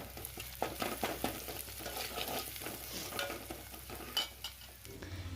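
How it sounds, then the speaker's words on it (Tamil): Onion, green chillies and salt sauté in hot oil in a pan, giving a continuous close sizzle broken by stirring scrapes and light clinks of the spoon. "2 பச்சை மிளகாய், தேவையான அளவு உப்பு சேர்த்து ஒரு 2 நிமிஷம் நல்லா வதக்கிக்கலாம்."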